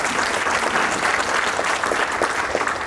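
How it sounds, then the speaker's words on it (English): An audience at a panel discussion applauds, steady dense clapping from a crowd that holds at an even level throughout without fading. "Can we have a round of applause just for the Fort Worth"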